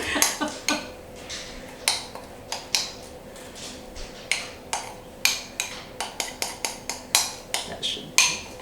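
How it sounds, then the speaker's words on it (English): A spoon clinks repeatedly against a bowl while mixing butter into peanut butter, irregular sharp taps at close range with no talk. "I'm just going to mix that together with a spoon"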